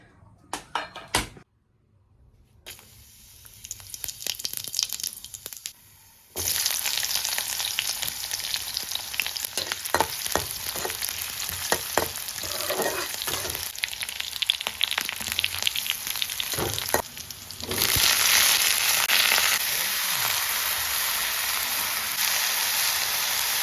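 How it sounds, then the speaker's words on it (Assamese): Steady loud sizzling of ridge gourd frying in a wok, with intermittent scraping and stirring clatter, briefly quieter near the start. "জিকা ভাজি বনাই কেৰাহী পাতি দিছোঁ"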